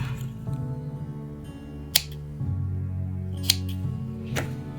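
Scissors snip crochet yarn ends in two brief, crisp cuts spaced apart, close and clear over a sustained tonal background hum.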